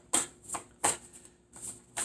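Tarot cards being shuffled and drawn by hand, a few soft riffling bursts and flicks that repeat at an uneven pace, quiet and close with no talking.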